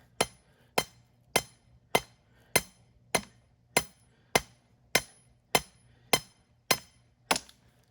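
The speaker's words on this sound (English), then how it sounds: "I'll just hammer the rest in." A metal ground rod struck by a hammer in about thirteen evenly spaced, sharp ringing blows, each decaying quickly, close and loud with no voices.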